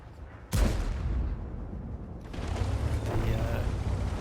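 In a tank battle video game, a Leopard PTA main gun fires a single sharp, loud report, followed by a sustained low mechanical rumble and clanking of the vehicle.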